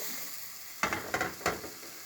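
Endives sweat gently in a pan with garlic and onion, a soft low sizzle running throughout, broken by a few short stirring scrapes midway; close and quiet with no talk.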